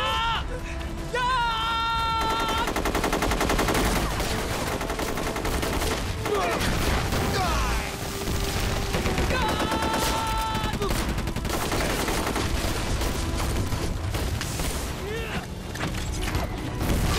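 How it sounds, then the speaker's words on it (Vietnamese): Gunfire in a Chinese anti-Japanese war film battle scene, dense continuous volleys of rifle and machine-gun shots with crashes, mixed under shouted voices and whistling tones throughout. "Các anh em, bắn chết cho tôi."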